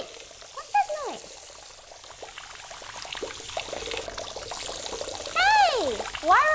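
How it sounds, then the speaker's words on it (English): Water runs from several sinks at once, a steady, moderately loud rush and trickle with splashy detail, overlaid by squeaky whistle-like sweeps and brief sounds nearby. "were you running all these sinks so that you could fill your water blaster?"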